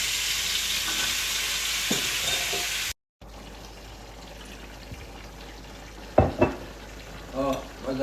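Ginger-garlic paste for a chicken curry sizzles in a hot pan with steady hissing and occasional stirring scrapes, followed after a short gap by quieter frying with a few clinks and soft kitchen sounds.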